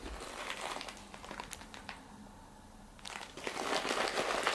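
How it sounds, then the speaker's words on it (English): Christmas wrapping paper on a book gift crinkles and rustles in soft, irregular handfuls, quiet and close, pausing briefly before a busier burst of crumpling. "I'm going to have to excuse the noise of the wrapping"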